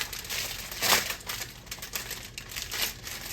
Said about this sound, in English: I'm gonna take my knife here, and I'm gonna cut this focaccia in half lengthwise.